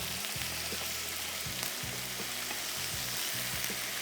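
Beef skewers cooking over a flame raised slightly, giving a steady, close sizzle with faint scraping or stirring sounds over and over.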